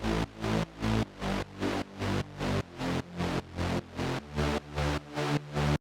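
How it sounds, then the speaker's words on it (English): A gritty trance synth bass layer distorted with a shaper pulses in a steady driving rhythm, about twelve thick buzzing notes with shifting low tones, dense and wide. "to get that wide distorted feeling in the bass line, I added a bass layer where I used a shaper on it,"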